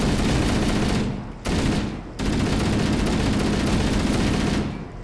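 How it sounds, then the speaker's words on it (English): Loud, dense gunfire from Halo Anniversary fills nearly the whole stretch, continuous bursts broken by two brief dips, with no talking; the exact weapon, a shotgun, cannot be singled out. "I miss the range of this shotgun."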